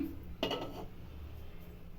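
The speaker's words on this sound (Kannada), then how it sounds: "ಮುದ್ದೆಗೆ ಬಾಣಲಿ ಇಡ್ತಾ ಇದ್ದೀನಿ" A single metallic clank as a pan is set down on a stovetop, a short clatter that quickly fades into low kitchen background noise.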